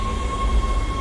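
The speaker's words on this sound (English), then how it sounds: "Tram arriving at flight deck station." A tram pulls into a station in the Dead Space video game with a loud, low rumble and a steady high tone over it, close and continuous through the moment.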